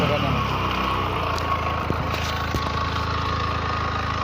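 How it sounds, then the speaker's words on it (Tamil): A motorbike engine runs steadily after being started, its drone continuous and fairly loud throughout, with brief upward revs partway through and a small, sharp knock near the middle. "இப்போ பார்த்தீங்கன்னா பைக் நல்லா ரேஸ் ஆகும்."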